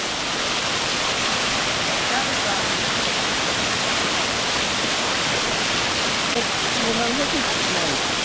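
Stewart Mountain River in St Mary, Jamaica, rushing in a dense, constant wash of water noise that stays loud throughout, with faint voices mixed in underneath.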